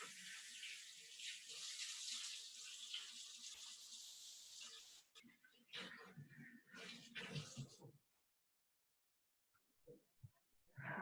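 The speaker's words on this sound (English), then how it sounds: "I'm gonna wash my hands real quick." A kitchen tap runs for hand washing after handling sticky honey, a steady hiss of water for several seconds, then splashing and rubbing sounds before stopping, with a few faint knocks afterward.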